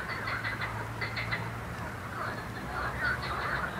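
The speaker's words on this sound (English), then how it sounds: "I don't know what type of bird that is making that noise." An unknown bird at a lake calls repeatedly with rough, squawking cries, moderately loud over outdoor background noise and faint voices.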